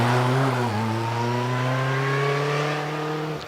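A supercharged Riley-powered vintage racing car climbing the Prescott hill climb course, its engine loud and near, holding a steady high-revving drone with a brief gear-change dip early on before pulling hard.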